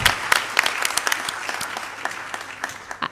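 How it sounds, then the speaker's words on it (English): A conference audience at a population-and-resources session bursts into applause, loud dense clapping right at the start that gradually thins and fades over a few seconds. "give them a round of applause"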